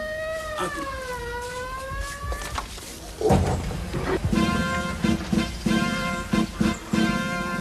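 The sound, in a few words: police siren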